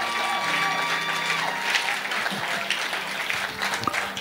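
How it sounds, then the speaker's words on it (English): A church congregation at a Sunday service claps together in a steady, fairly loud wash of applause, with a few voices and murmurs mixed in. "clap for me for going."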